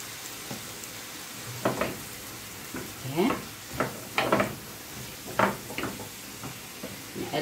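A spoon scrapes and knocks through spaghetti in sauce in a pan, with several distinct stirring strokes at an uneven pace over a faint sizzle, close and moderately loud.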